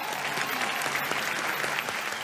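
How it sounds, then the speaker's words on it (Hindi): Dense, continuous applause from a crowd, a steady wash of many hands clapping throughout, moderately loud and unbroken. "तालियां।"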